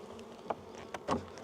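Honey bees buzz faintly from an opened hive during a mid-winter apiary inspection, a low steady drone with a few brief louder swells as frames are disturbed.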